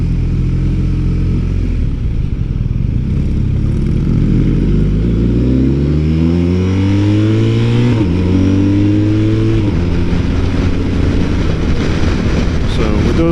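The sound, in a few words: BMW motorcycle engine accelerating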